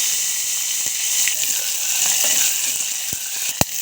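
Garlic sautéing in hot oil with curry leaves and asafoetida, a steady close sizzle with occasional sharp clicks of a spoon against the pan, no talking.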